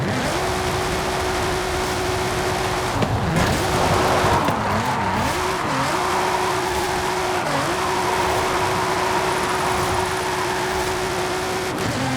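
Nissan GT-R drifting in Forza Horizon 5, its engine holding a steady high note while tires squeal in long, wavering slides, with brief lifts and revs between, loud and close throughout.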